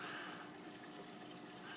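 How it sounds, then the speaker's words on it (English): Aquarium water bubbling steadily from a waterfall filter in a Mississippi map turtle tank, a soft continuous gurgle and hiss heard up close with no talk. "So I've got the bubbles from the waterfall coming"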